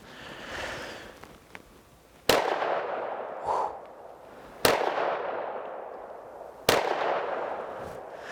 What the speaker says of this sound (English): We're going to do our 3-shot accuracy test just to see where we're at with the firearm right off the rip.